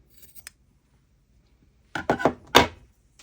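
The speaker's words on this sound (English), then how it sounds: "You can always then weave these tails for extra security, or give them a trim." Scissors snip crochet yarn tails close by in a quick cluster of three or four crisp cuts after a faint click and a quiet pause.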